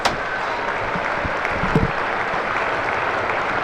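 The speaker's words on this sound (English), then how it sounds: "You can hear the applause." Steady, broad applause from a cricket crowd at a Surrey v Somerset County Championship match, sustained and even throughout at a moderate distance, with a slight swell near the middle and no talk.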